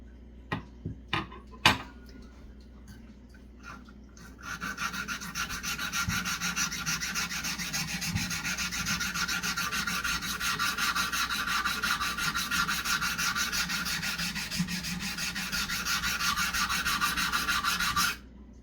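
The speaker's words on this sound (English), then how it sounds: "You can see when it starts to scrape the entire surface that you've done enough there." Scraping and cleaning a metal proportional divider, a steady rasping rub that starts after a few sharp clicks and continues evenly and close up for the rest of the clip.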